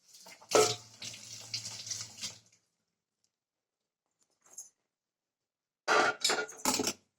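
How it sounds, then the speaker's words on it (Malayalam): Boiled tea water is poured into another vessel in two splashing streams, separated by a few seconds of quiet and a brief clink. "വേറൊരു പാത്രത്തിലേക്ക് നമുക്ക് ഒഴിക്കാം"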